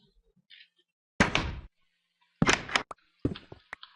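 Redstone-powered doors in Minecraft open and close with several sharp wooden thunks and clacks, spaced apart with quiet gaps and some faint clicks between them.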